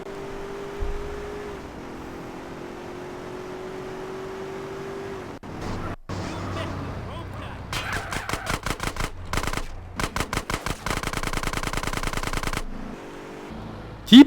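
Gunfire in GTA San Andreas: after a low rumbling stretch, sharp bursts of rapid automatic fire crack out in repeated volleys, loud and close, with a final heavy blast at the end.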